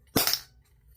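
A backpack sprayer valve pops once, a short sharp snap with a quick rattling tail, close up and fairly quiet, with no voices.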